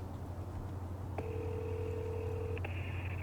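A phone dials out to a favorite Chinese restaurant for a carryout order: quick keypad tones come first, then one long steady tone, then a shift to another tone, all over a constant low hum.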